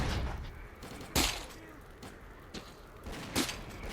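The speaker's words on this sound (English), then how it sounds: "Okay, some AK rounds." Several sharp, loud AK rifle shots in S.T.A.L.K.E.R. Clear Sky crack out at irregular intervals over a rumbling, busy background.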